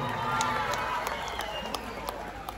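Applause and cheering from a crowd at an Assamese concert in Jorhat, a broad steady wash of clapping with scattered sharper claps, fairly loud and continuous throughout.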